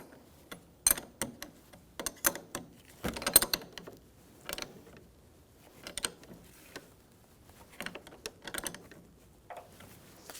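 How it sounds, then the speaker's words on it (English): Quiet, irregular metallic clicks and ratcheting from a 13mm wrench snugging the negative battery cable terminal on a Jeep Wrangler, in short scattered bursts with pauses between them. "you're going to have a 1/2 inch or 13mm wrench or socket and snug this up"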